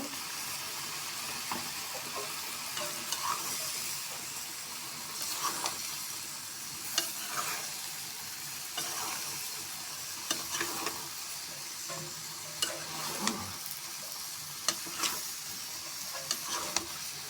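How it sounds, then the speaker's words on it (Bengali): Winter vegetables with eggplant, green chili and onion stalks stir-fried in a pan, with a continuous sizzle and a stream of irregular spatula clicks and scrapes against the metal. "এখন আমি আর একটু কষিয়ে নেব"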